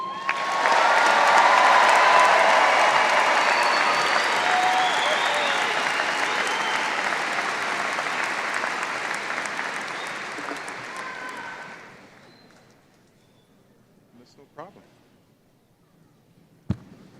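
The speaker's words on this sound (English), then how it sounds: "Let's give these Lobos another round of applause, please." A large audience applauds the Rocky Mountain High School class of 2024 at their graduation ceremony, a dense wash of clapping with some cheering that swells early, slowly tapers, and stops around twelve seconds, leaving a few stray claps.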